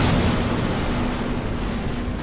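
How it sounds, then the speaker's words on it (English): A video game explosion, a brief loud booming burst that trails into a dense rumbling roar. "Did you just explode Anthony?"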